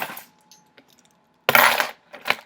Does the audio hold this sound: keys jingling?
yes